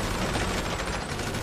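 Rapid overlapping gunfire from the shooting range of a bunker in the GTA V video game, loud and dense, a continuous fusillade with no pauses.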